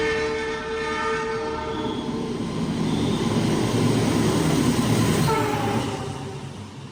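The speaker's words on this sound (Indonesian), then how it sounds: "Itu dia barusan kereta api Sancaka melintas di stasiun Sragen, asli ngebut banget" A fast Sancaka passenger train roars through Sragen station at speed, a sustained rushing rumble with a horn tone sounding over it, swelling and then fading away.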